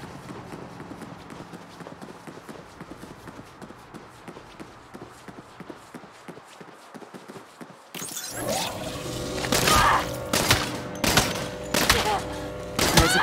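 A newly acquired gun opens fire in the Saints Row video game, a rapid burst of loud, close shots arriving suddenly after a quieter stretch of ambient game sound, followed by a few more heavy reports.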